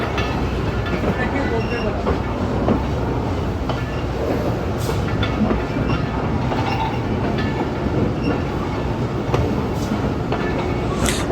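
The Allama Iqbal Express runs along the rail track between Sialkot Junction and Wazirabad Junction, a steady loud rumble with rhythmic clickety-clack and faint squeals from the wheels, heard from aboard the train.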